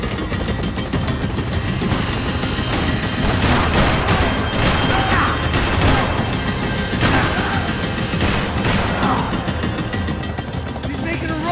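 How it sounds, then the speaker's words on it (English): Rapid gunfire and crashing explosions in a detective video game, dense and loud throughout, with engine noise underneath and shouting voices mixed into the chaos. "Max, shoot that bastard."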